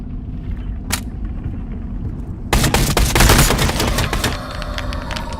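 Gunfire in Into the Radius 2: a single sharp shot, then a loud rapid burst of fire lasting about two seconds over a low rumbling background.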